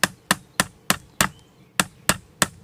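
Sharp, evenly spaced hammer taps, about eight in all, strike a takedown pin back into a Kel-Tec SU-16B rifle on a tabletop. The blows are loud, close and bright, with one short gap partway through.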